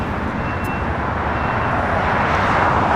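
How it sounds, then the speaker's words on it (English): A Japan Airlines Boeing 787 Dreamliner arriving from Osaka at LAX, a steady, loud broadband jet roar that holds at a constant level throughout. "Japan Airlines Dreamliner coming up from Osaka, Japan."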